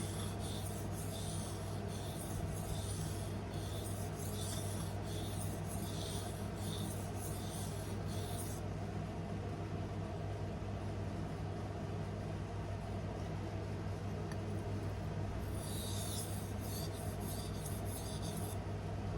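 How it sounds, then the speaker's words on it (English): A carbon steel bushcraft knife grinds on a ProCut sharpener in bursts of bright, raspy strokes, a run of repeated passes first, then a pause with only low hum, then a few more strokes near the end. "Just want to strengthen that burr up a little bit."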